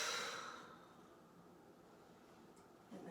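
A long exhale during a morning yoga flow, an airy breath out that fades over the first half second, followed by quiet room tone and a faint rustle near the end, with no talking.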